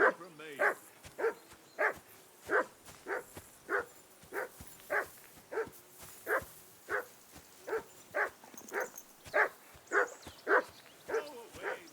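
Dog barking in the video game Kingdom Come: Deliverance, a long even series of sharp barks at a steady rhythm, close and clear over a quiet background.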